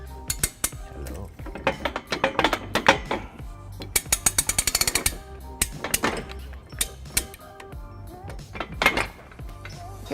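A 3/4 inch socket on a ratchet snugs up trailer hitch hardware on a 2007 Chevrolet Impala, giving close, busy metallic clicking and clinking in irregular bursts with a clattering rattle of tool against metal.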